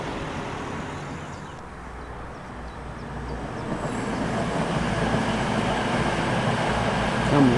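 Near a railway bridge, a train rumbles past on the tracks as a steady, broad roar that swells louder toward the end, close and continuous with no speech over it.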